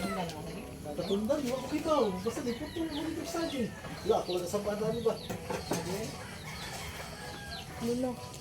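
Clucking Visayan native chickens with occasional crowing, amid a busy background of overlapping voices and steady noise, fairly close.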